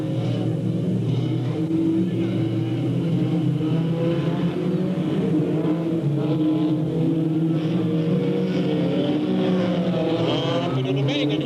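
Race cars lap the oval at Delta Speedway in 1997 with a continuous, droning engine roar whose pitch rises and falls as the pack circulates, heard at a distance under a steady crowd-like wash.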